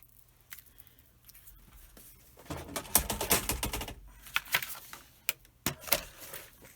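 Sheet of cardstock being cut for card-making, heard as a quiet start followed by a cluster of crisp, close snipping and slicing strokes with scattered sharp clicks, no talking.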